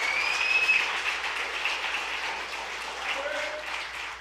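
A large church congregation applauds loudly and steadily, a dense wash of clapping that holds for several seconds, with a faint tone rising above it.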